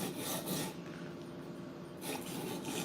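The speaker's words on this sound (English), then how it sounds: "I just let him know I'd be sharpening his M4" A knife blade, an M4, being sharpened on a guided sharpening system, heard as rhythmic rasping strokes, close and fairly loud, with a short pause between passes.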